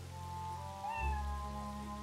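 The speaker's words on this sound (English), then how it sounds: "Kitty! Pet the kitty." A cat in Fate/Samurai Remnant gives a soft meow while being petted, a brief rising tone over a steady low game ambience with faint rain-like hiss.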